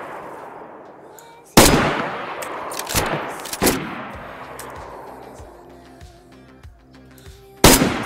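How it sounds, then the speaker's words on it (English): Gunfire in the survival video game DayZ: loud sharp shots cracking at irregular intervals, a few close and heavy, others fainter and more distant, with quieter rattling between them. "Is that shooting at you?"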